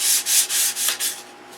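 Light hand sanding knocks lumps off a model aircraft build in five quick back-and-forth rasping strokes, close and clear with no talking.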